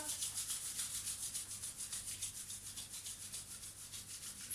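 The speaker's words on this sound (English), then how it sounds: "let's start rubbing our palms together" Two palms rub briskly together during a beginner yoga warm-up, a quick even back-and-forth swish repeated many times, soft and close, with no one talking.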